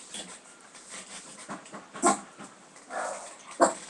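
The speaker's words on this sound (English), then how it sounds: "Dog, it is an adult. It is an African dog." An adult African dog barks and whimpers in a few short, fairly faint yelps spread unevenly across a quiet background.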